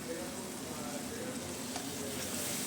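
Food sautéing in oil in a pan during Bengali home cooking, a steady close sizzle and frying hiss with light stirring throughout, under faint talk.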